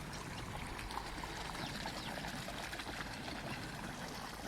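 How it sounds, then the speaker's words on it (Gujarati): Water from a running motor pump gushes and trickles steadily while plants are watered, a soft, continuous rushing with no talk over it. "જો મારા પપ્પા વાળે છે પાણી"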